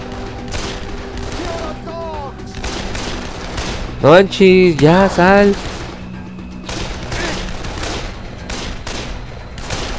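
Gunfire in the zombie video game Dead Island, a steady rumble of repeated shots running throughout at even loudness, with people talking excitedly over it partway through.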